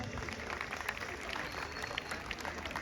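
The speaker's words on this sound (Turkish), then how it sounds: "Büyük alkışlar Gürkan Soğukpınar için." Crowd applause for players at a football championship trophy ceremony in Beykoz: steady, dense clapping throughout at moderate distance, with an announcer's voice mixed in.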